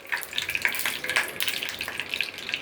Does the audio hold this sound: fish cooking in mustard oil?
yes